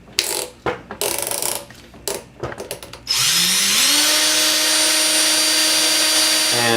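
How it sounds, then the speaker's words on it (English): An electric drill twists wire for a fan mod: several short ratcheting bursts of the chuck being tightened, then a continuous, loud motor whine that ramps up in pitch and holds. "you're going to close your drill and make sure the wire is as straight as possible when going into the drill"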